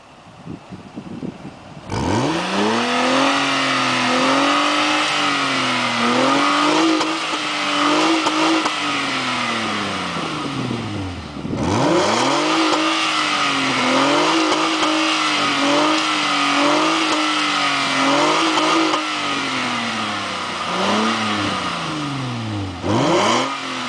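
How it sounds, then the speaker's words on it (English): A 1996 Nissan Maxima GXE fitted with a Greddy SP2 exhaust, revved repeatedly close by. The engine climbs in a loud rasping surge, drops back to idle and rises again in a series of quick blips, with no talk. "here we got the Maxima 1996 with the Greddy SP2 exhaust system"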